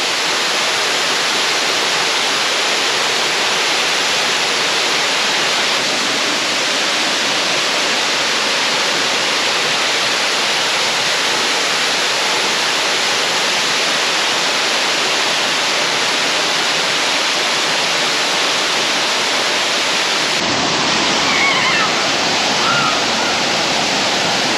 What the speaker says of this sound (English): And yet another set of waterfalls.